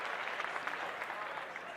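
An applause sound effect plays as a steady patter of many hands clapping, moderately quiet and consistent throughout, with no voices on top.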